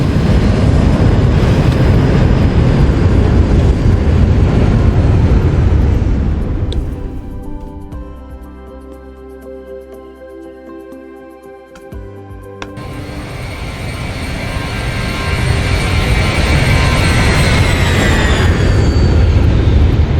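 Steady, loud roar of a Boeing 737-800 airliner's engines as it climbs after takeoff in the X-Plane flight simulator, fading to a quieter hum midway before swelling back to full power.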